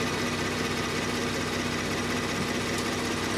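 2019 Kia Stinger engine running steadily while the transmission is shifted through its gears, a constant loud close rumble with an even hum and no clear change in pitch or talk.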